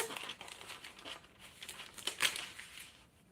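Soft crinkling and rustling of pattern-drafting paper being pivoted and shifted on a table, a few quiet scattered crackles with one sharper crinkle near the end, heard alone.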